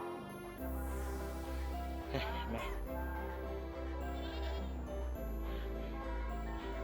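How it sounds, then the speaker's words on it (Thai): Goats bleat repeatedly across a Thai farm where goats and cows are kept together, several overlapping calls ringing out loud and near over a steady droning background, with no talking. "ทั้งแพะทั้งวัวเต็มเลยนะครับ แพะนี่เยอะมากนะแพะเยอะมาก"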